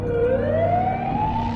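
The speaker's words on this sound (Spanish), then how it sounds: "Cuando llegó la ambulancia," Rising, wailing siren of an arriving ambulance in a parking lot, loud and steady, sweeping upward over a continuous low road rumble without any talk.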